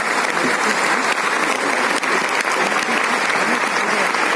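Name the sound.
loud applause filling the auditorium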